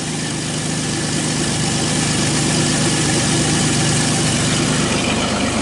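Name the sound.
2006 Chevrolet Uplander engine idling roughly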